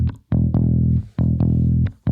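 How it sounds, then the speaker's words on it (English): A clean, natural bass part soloed from a mix plays a steady, rhythmic figure of sustained low notes broken by short percussive attacks, loud and upfront with no voices. "Here's the clean, natural bass."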